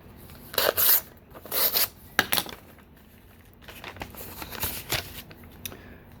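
Envelope from New Jersey opened by hand: several bursts of paper rustle and tearing crinkle, close and fairly faint, spread across the span with quiet gaps between.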